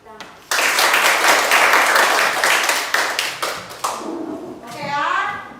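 Classroom audience applause after a student group presentation, loud dense clapping from many hands right away, fading toward the end as a voice speaks over it.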